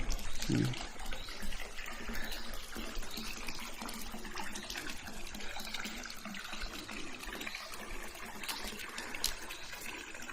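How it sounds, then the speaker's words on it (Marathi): Hot spring water flowing out beneath a goddess idol at the Tatta Pani temple, a steady trickling and pouring stream heard close throughout, with voices talking faintly in the background. "देवीच्या पोटाच्या खालून पाणी म्हणजे असं मधून पाणी येतं बुवा असं"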